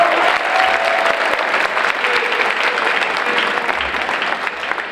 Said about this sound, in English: One more round of applause for those fine students.